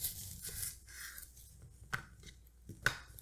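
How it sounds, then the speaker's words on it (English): A knife chops a vegetable on a board while prepping mulligatawny curry chicken soup, giving soft scattered cuts, then two sharper, louder knocks about a second apart near the end. "I kind of just start chopping the end like this a little bit"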